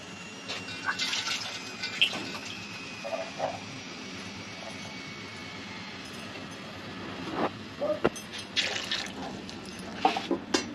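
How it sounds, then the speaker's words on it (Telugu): Boiled field bean seeds being washed in water by hand in a home kitchen, with soft sloshing, splashing and dripping that comes and goes over several seconds, close up with no talking. "ఇవి ఉడకబెట్టేసాను ఇంకోసారి కడగాలి"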